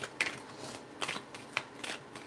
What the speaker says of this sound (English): And one fell out before I could even finish really shuffling.